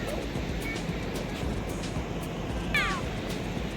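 Ocean waves at Pudimadaka beach make a steady broad wash of surf throughout, with a brief high cat-like cry or seabird call partway through.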